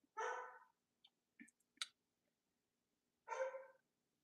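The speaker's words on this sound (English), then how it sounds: "My dog is, like, continually barking" A dog barks in two bursts, near and fairly loud, with a few short clicks and knocks in the quiet gap between them.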